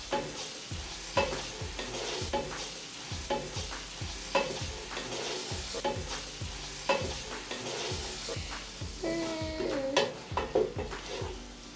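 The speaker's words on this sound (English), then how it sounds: "So I'll put the meat, I put the meat." Meat sizzling in hot cooking oil in a pan, with a steady frying hiss punctuated by regular scraping stirs and clinks of a utensil against the pan, close and fairly quiet, no talking.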